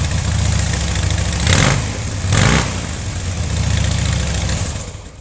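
A 2008 Harley-Davidson Dyna Low Rider motorcycle engine idles loud and close with a lumpy, uneven throb, broken by two short revs.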